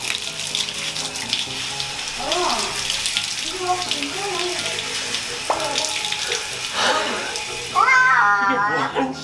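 A tap runs steadily throughout while a cat is bathed, with occasional cat meows rising near the end and someone talking over the water.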